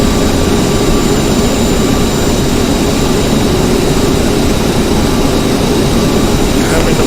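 CRJ regional jet engines roar in a flight simulator, a loud, steady broadband rumble with a faint high whine, unbroken throughout.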